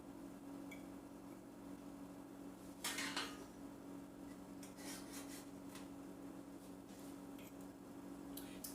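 Turkey tenderloin is set onto a serving platter, with soft scrapes and clinks of utensils against the dish, a short louder clatter partway through, then quiet rubbing and light taps over a low background hum.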